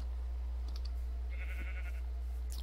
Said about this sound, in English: that's cows